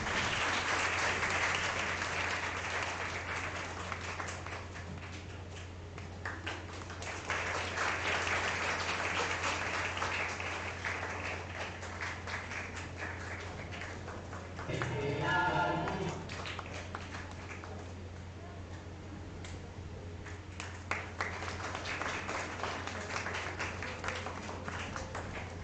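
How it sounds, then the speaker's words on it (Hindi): Long, steady applause from an audience in a lecture hall at a special lecture event, a dense even patter of many hands that swells and eases slightly, with a short burst of louder noise midway and no speech. "तालियां रुकनी नहीं चाहिए।"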